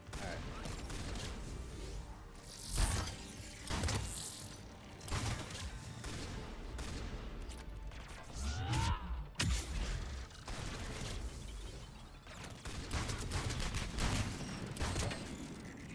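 Shotgun fire in Mass Effect 3 combat: scattered blasts with mechanical clatter and weapon handling, some shots loud and close, others lighter, spread across a busy game soundscape.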